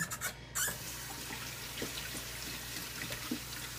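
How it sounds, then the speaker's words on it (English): Tap water runs steadily into a kitchen sink while hands are washed after mixing baguette dough, a soft continuous splashing hiss with a few small sloshes, moderately quiet and close. "Let me wash my hands quick."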